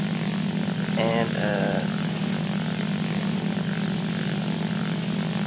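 Propeller drone of a Focke-Wulf FW 190 A-1 in flight in War Thunder, a steady loud engine hum running throughout, with a brief voice near the start.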